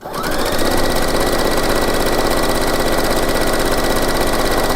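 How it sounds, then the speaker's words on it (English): Loud and close, a sewing machine starts up and runs at a fast, even rhythm, joining a garment's front facing to the front piece, with no voices. "I am sewing the front facing, number 6, to the front, which is number 1"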